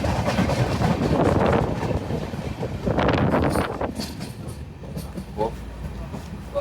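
A passenger train runs along the rails, with a rushing rumble and rattling clatter plus gusts of wind noise, louder early on and easing toward the end.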